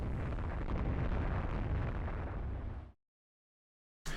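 Shells striking a warship in the naval strategy game Rule the Waves 3, a loud sustained rumbling barrage of explosions lasting about three seconds before cutting to silence, with a brief burst returning at the end.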